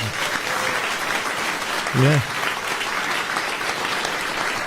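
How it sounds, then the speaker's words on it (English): Steady applause rolls through a radio studio at an even level, broken once by a short exclaimed word from a man near the middle. "I think that deserves a round of applause."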